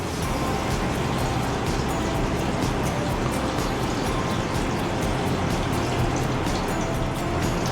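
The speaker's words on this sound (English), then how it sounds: "it's a waterfall coming down" Steady broadband roar of a waterfall pouring down in Alaska, heard from a cruise ship deck, continuous and fairly loud with no breaks.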